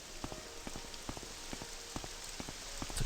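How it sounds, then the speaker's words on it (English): Rain in the video game Morrowind, a soft steady patter with scattered louder drops tapping at irregular intervals, close and fairly faint, with no voices. "Oh good, it's raining, lovely."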